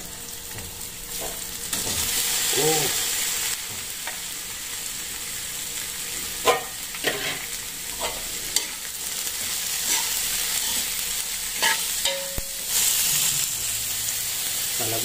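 Shrimp fry in a pan for a taro dish in coconut milk, with loud continuous sizzling and repeated scraping, stirring strokes, and a brief voice in the middle.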